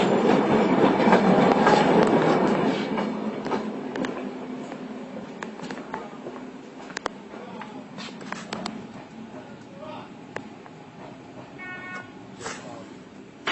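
Passenger train rolling on rails on a journey to Karbala, a steady rumbling rush with rhythmic clickety-clack that eases and thins out over time, with scattered clicks and a brief squeal near the end.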